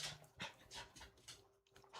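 A dog pants in quick, breathy bursts close by, with soft whimpers mixed in over about two seconds.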